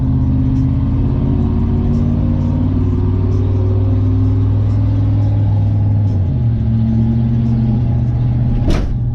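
A lowered OBS pickup truck's engine drones loudly and steadily from inside the cab, with the pitch dropping midway, then a sharp thump near the end as the truck on stiff Belltech Nitro Drop 2 shocks hits a bump.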